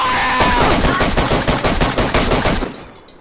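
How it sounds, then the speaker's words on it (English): Rapid automatic gunfire from the video game DayZ: a dense burst of evenly spaced, loud shots lasting about two seconds, then a short tail as it fades. "Open fire!"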